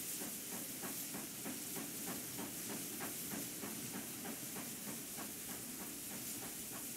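Steam train in a video game set in the 1800s, hissing steadily with a rapid repeating chuff, close and continuous throughout without speech.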